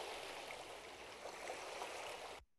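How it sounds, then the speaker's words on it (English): Running water outdoors, played back from a recorded clip, makes a soft, steady rushing hiss like a stream, continuous and faint before cutting off abruptly. "you hear some running water"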